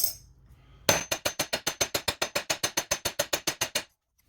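About twenty sharp metallic hammer strikes in a steady, even rhythm, close and loud, hammering a 1 oz silver bar flat.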